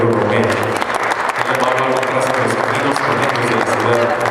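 Audience at a conference on the Camino Real de Tierra Adentro and the city of Durango applauding a historian, a sustained, loud wash of clapping from a full room, steady throughout with a few voices beneath.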